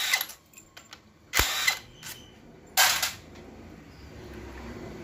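Short bursts from an impact wrench working loose the bolts on a Suzuki Grand Vitara automatic, two or three sharp rattling blasts of a second or so each, separated by quiet garage background with no talk.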